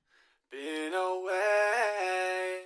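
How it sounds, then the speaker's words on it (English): A heavily auto-tuned singing voice holds a few steady notes and jumps abruptly between them in stepped pitch, giving a smooth, robotic tone. It is close and dry, with a faint breath just before it. "So with the auto-tune that sounds like this."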